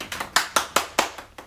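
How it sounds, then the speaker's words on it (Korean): Hands clap in a quick, even rhythm, about seven sharp close claps with short gaps, at an online fan concert stream. "수고했다고 몽베베한테도 박수 쳐주고"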